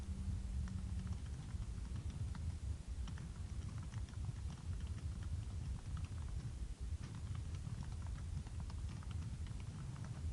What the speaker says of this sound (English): My typing is not on point.